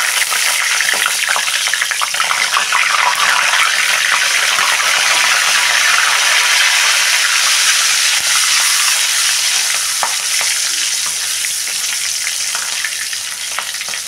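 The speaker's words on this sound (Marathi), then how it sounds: "ह्या चुरचुर वाजायला लागले तेल" Two green chillies fry in hot oil after a batch of crispy bhaji has been fried, giving a loud, continuous crackling sizzle with sharp spitting pops throughout, close up and with no voices.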